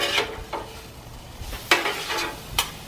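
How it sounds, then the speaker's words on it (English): Tender cooked potatoes being mixed in a pan: soft sizzling underneath, with several distinct scraping and clacking strokes of a utensil against the pan at an uneven pace. "Now we're gonna mix all of this up."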